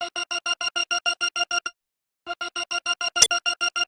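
Choir sample chopped with a Gross Beat effect into a fast stuttering pulse of short gated bursts, dropping to silence for a moment before the choppy rhythm returns, with one sharp click near the end.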